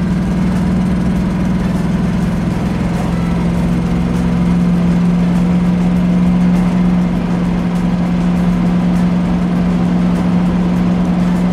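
A 1979 GMC dually truck drives on the road, its engine a steady low hum and drone that holds even and close throughout, with road and cabin noise and no talking.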